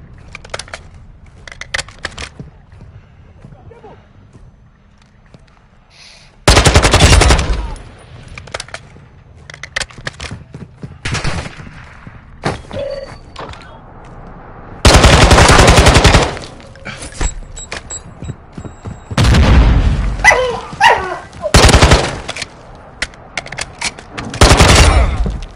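Heavy gunfire during an online mission in Red Dead Redemption 2: sharp scattered shots, then several loud sustained bursts of rapid fire at close range, with clicks and clatter between volleys.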